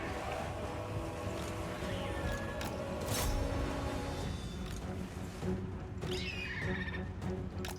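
Horses whinny during a battle in the video game Total War: Warhammer 2, moderate neighs rising over a dense mix of battle noise, with another whinny later in the clip.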